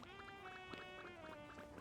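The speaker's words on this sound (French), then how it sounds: "il a un bruit de pas" Light rhythmic footfalls of a Pokémon in Pokémon Legends Z-A, steady quick steps repeating about every quarter second beneath a sustained tonal music bed.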